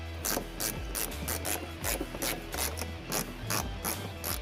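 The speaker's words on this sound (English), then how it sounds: "Remove three fasteners behind the wheel well." A ratchet wrench removing fasteners behind the wheel well of a Chevy Trailblazer, giving rapid, rhythmic clicking in steady bursts, close and clear with no talking.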